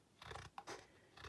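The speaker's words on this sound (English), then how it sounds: "I'm just going to cut this little front edge because I don't want the popper on there" Scissors snip through the front edge of a small mini binder, a few short cutting and scraping strokes close by and fairly quiet, with no talking.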